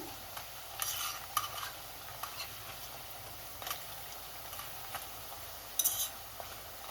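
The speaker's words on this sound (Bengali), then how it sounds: "এই যে উল্টে পাল্টে এরকমভাবে আমি সব চাকলি ভেজে নিচ্ছি।" Chakli snacks fry in hot oil with a faint, steady sizzle, broken by several brief scraping clinks as a utensil turns them in the pan.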